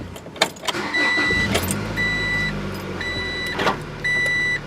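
Acura Integra engine revving toward 3,000 RPM with a metallic rattle, mid-pitched engine drone that swells and repeats in short bursts, close and without talk.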